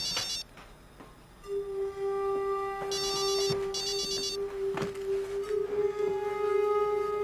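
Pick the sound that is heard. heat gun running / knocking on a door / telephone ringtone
telephone ringtone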